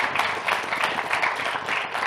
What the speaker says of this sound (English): And please give a round of applause to all our